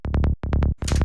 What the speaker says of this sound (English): I've used one of the bass lines from my latest Serum preset pack,